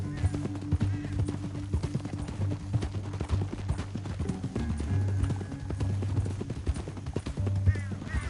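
Horse hooves clip-clop steadily at a walking pace in a canyon, several hoofbeats in an even rhythm, fairly close, with a low rumble underneath and no talk over them.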